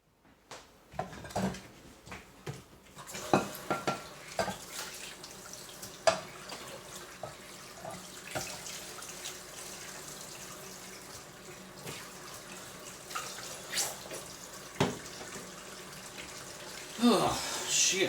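Dishes being washed under a running kitchen tap, with steady water flow and scattered clinks and knocks of crockery throughout, fairly close and alone without talk.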